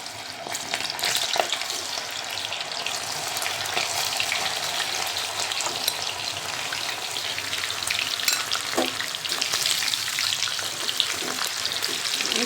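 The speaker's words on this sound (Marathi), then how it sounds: "तर आता तेल तापलेलं आहे. आपल्याला हे टाकायचे कॉर्न त्यामध्ये." Corn kernels fry in hot oil in a home kitchen, giving a steady, loud, close sizzle with scattered pops and crackles that continue throughout without speech.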